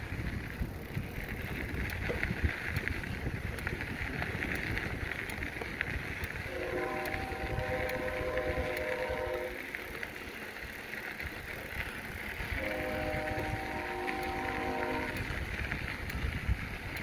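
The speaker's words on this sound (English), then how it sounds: "You hear the train in the background." A train sounds two long, drawn-out horn blasts some distance away, separated by a few seconds, over a constant outdoor rumble and hiss along the Erie Canalway Trail.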